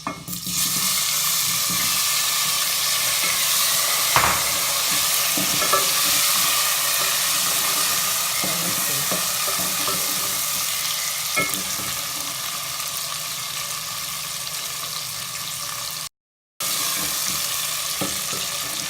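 Pumpkin frying in a pan as tomatoes go in, a loud, steady sizzle filling the whole stretch with faint scraping underneath and a brief dropout near the end.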